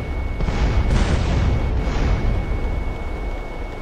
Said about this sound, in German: Die schmeißen einfach Bomben ab.